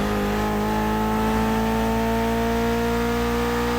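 A Mitsubishi inline four-cylinder car engine, rated at 280 horsepower, holds a loud, steady high rev in The Crew Motorfest, a continuous droning tone with a slight rise in pitch and no pauses.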